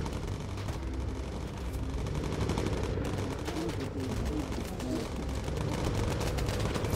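Bomber aircraft machine guns fire without a break in a World War II bomber game. The dense bursts sit over a steady engine drone and run through the whole stretch.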